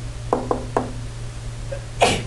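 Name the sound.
sneeze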